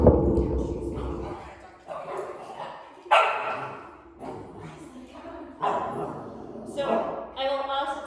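A puppy yips, barks and whimpers in short, lively bursts during play, up close, with a few brief pauses between outbursts.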